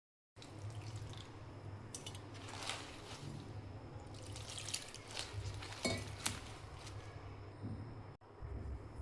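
Spinach leaves being rinsed in a few changes of water, with steady splashing and trickling close by throughout, a brief gap near the end, and no talking.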